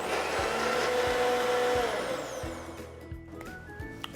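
A mixer grinder whirs steadily as it grinds cashews, green chili, ginger and curd into a thin paste, a loud motor drone with rhythmic knocking pulses that slowly winds down toward the end.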